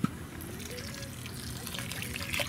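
Water trickles onto kocho dough while it is kneaded by hand, giving a soft, close, continuous dribble with light wet squelching and a small tap at the start.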